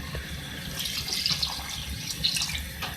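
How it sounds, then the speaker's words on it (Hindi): A glass of water splashes steadily into a cooking pot of frying achari semi aloo, a close gurgling pour with a few louder splashes and no talking. "अब मैं इसको कुक करने के लिए इसमें 1 गिलास पानी ऐड कर रही हूँ।"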